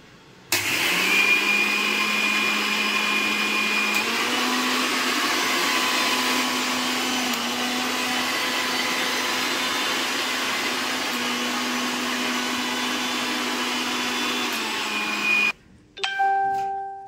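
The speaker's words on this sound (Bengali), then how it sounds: "চালটা আমার বাটা হয়ে গেছে।" An electric grinder whirs continuously as it grinds soaked rice into a paste, with a loud, steady motor drone and a slight pitch rise partway through, then cuts off near the end, leaving a few clicks.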